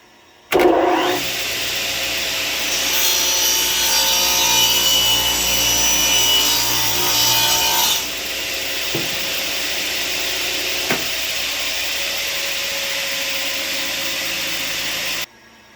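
Radial arm saw cutting through a wooden corbel held square against the table, a loud broadband whine for several seconds that drops to a steady idle hum with a couple of faint knocks, no talking.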